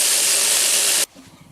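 A burst of aerosol spray is applied during folding-knife blade work in a workshop, a loud, steady broadband hiss lasting about a second before cutting off abruptly into quiet room noise.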